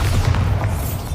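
A Bombarda explosion spell in Hogwarts Legacy booms as one deep, low, close blast with a rumbling tail, loud and alone with no speech over it.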